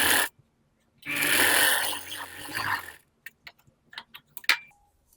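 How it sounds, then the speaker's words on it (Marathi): A sewing machine stitches a blouse yoke in a short burst of rapid mechanical whirring lasting about two seconds. Scattered clicks and handling taps follow before and after it. "आता आपल्याला इथून सुद्धा अशी शिलाई देऊन घ्यायची"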